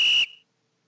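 Scratch's built-in whistle sound effect gives one loud, piercing blast lasting about a quarter second, followed by a short decaying ring and silence, with no talk.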